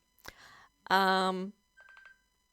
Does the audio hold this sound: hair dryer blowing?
no